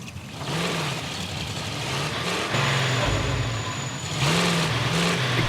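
Truck engine in the Call of Duty Warzone video game, a mid-pitched motor droning steadily and rising and falling as it revs, loud and close with no talk over it.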